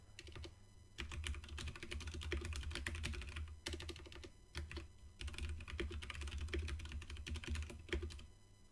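Rapid keystrokes on a computer keyboard while writing a Windows desktop program, coming in dense bursts with a couple of brief pauses, close and steady, no voices.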